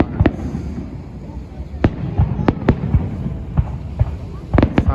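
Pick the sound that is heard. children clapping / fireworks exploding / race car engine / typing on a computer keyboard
fireworks exploding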